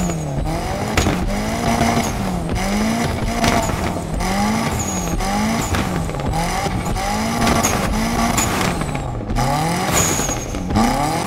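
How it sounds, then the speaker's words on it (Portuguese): A Mitsubishi Eclipse GSX engine in the Need for Speed Unbound racing game roars loudly through repeated rising and falling rev sweeps, with brief tire squeals and no talking. "o ronco tá idêntico o do Eclipse com a vida real"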